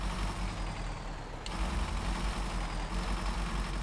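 The Fuel Mule truck in SnowRunner, a steady low engine drone running at moderate volume throughout, with no talk.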